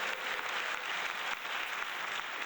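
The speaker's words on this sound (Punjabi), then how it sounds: "ਇਹਨਾਂ ਟਰਸਟੀਆਂ ਲਈ ਇੱਕ ਜ਼ੋਰਦਾਰ ਤਾਲੀਆਂ" Sustained applause from an audience at a Sikh awards ceremony, steady and even throughout, heard from some distance with no voices over it.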